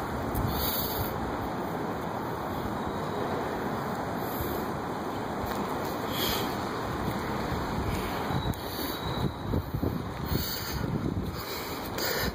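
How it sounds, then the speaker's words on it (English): Steady, roaring wind from an approaching storm buffets the microphone with a constant rumble, gusting harder near the end; no voices. "It's getting really windy earlier."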